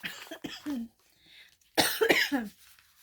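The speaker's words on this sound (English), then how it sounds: "I'm still battling this crazy cough" Two rough coughing bursts, the first brief and the second longer and harsher, sit close to the microphone with quiet gaps around them.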